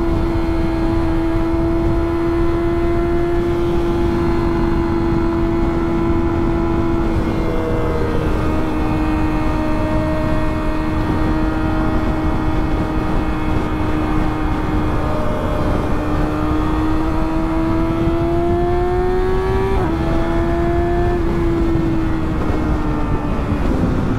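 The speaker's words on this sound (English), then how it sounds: "This big ass car just came out of nowhere." A big car passes on a windy day, its engine a loud, steady drone that shifts slightly in pitch as it goes by, with heavy wind buffeting the microphone throughout and no talking.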